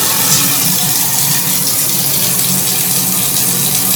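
Water gushes steadily from a repaired bathtub spout, a loud, continuous, close splashing rush that holds evenly throughout with no voices.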